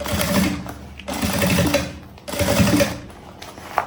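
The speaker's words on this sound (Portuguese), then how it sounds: "a gente volta e passa a costura de novo" A sewing machine restitches a seam on a shoulder bag with elastic, running in two long, close, steady bursts with a short pause between them and no talk.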